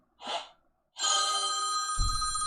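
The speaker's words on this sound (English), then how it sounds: "And I have a phone call." A telephone rings with a sustained bright electronic trill after a brief breathy sound, continuing steadily to the end with a low thump near the close.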